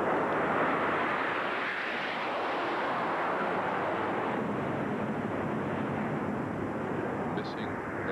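T-38 jet aircraft fly over in a memorial formation, a broad roaring rush that swells and holds loud and steady before easing slightly.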